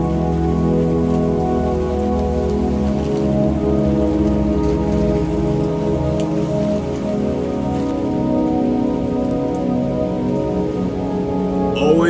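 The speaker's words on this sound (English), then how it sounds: "it's raining cats and dogs" Heavy rain pours steadily outdoors at a soccer field, a dense continuous hiss of drops on surfaces with no pauses, loud and close throughout.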